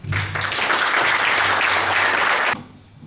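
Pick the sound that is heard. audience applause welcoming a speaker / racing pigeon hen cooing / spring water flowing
audience applause welcoming a speaker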